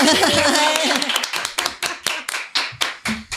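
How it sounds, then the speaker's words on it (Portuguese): A small group in a podcast studio gives a round of applause to close the show, dense clapping that thins into a few loud, separate claps near the microphone. "E a salva de palmas pra gente fechar?"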